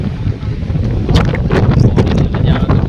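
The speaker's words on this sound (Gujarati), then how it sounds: "પવન આવે છે." Strong wind on a sea bridge on the way to Bet Dwarka buffets the microphone in a loud, steady rumble with gusty swells, and a voice is faintly present underneath.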